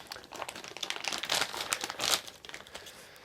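Plastic packaging crinkles and crackles close by as it is pulled off silicone boost pipes made by Pro Hose, in a short burst of irregular rustling with no speech.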